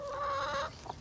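Backyard chickens, with laying hens, Buff Orpingtons and young birds being raised for slaughter, give a few close, sustained clucking calls followed by a short softer cluck, with no talking.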